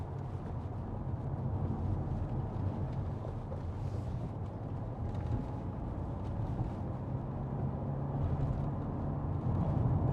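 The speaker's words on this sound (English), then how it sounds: "The tyre noise isn't excessive." Steady low rumble of tyre road noise from a 2016 Audi A4 2.0 TDI S line saloon on the move, a continuous even roar heard from inside the cabin with no talking.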